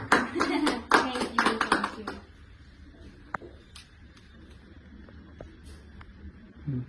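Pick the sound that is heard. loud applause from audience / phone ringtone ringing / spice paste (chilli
loud applause from audience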